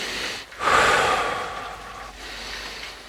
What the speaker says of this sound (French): Et tu fais des grandes inspirations comme ça. j'inspire l'agréable et j'expire le désagréable.